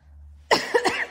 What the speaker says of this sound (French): il faut que je parle pour que je me mette à tousser